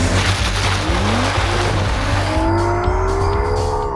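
An Aston Martin DBS Volante's 5.2-litre bi-turbo V12 roars continuously and loudly, with rising engine tones sweeping upward as it revs, heard close without any voices.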